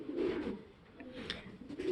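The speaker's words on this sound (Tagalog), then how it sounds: "ito na yung ibon mo" A pigeon coos softly in low, repeated throaty calls, close but fairly quiet, with a few faint chirps in the background.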